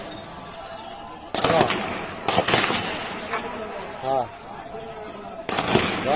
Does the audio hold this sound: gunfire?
yes